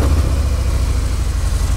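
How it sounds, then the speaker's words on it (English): A Harley-Davidson Milwaukee 8 motorcycle engine idles close by, a loud, low, steady rumbling purr with no voices. "the engine's got a nice little purr to it. Much, much quieter than what I used to have. But that's the typical sound of the Milwaukee 8."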